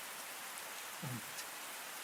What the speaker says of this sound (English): The skies open up and it begins to downpour a very heavy rainstorm